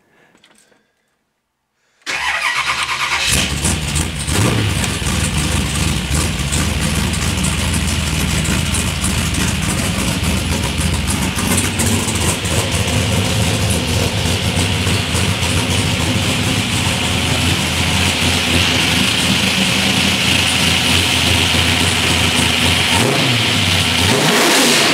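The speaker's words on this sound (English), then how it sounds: "So I'm gonna start it up and I'll show you just how snappy your throttle is once you do this mod." Car engine fitted with a Holley 4150 carburetor cranks and catches after a brief quiet moment, then revs loudly and continuously with sharp throttle blips for over twenty seconds.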